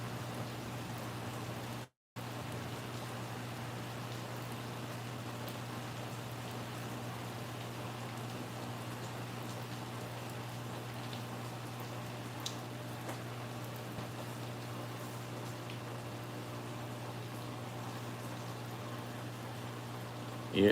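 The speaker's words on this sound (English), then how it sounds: "if it's the raindrops are more spaced out and they hit hard, you can really hear it on the tin roof here" Rain falling on a tin roof makes a constant soft hiss with a low steady hum beneath it, faint and unchanging, with a few isolated louder drops and no talking.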